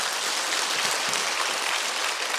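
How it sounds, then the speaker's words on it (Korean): Audience applause of encouragement, a dense, even wash of many hands clapping continuously for a couple of seconds, close and fairly loud with no voices. "격려의 박수 부탁드립니다."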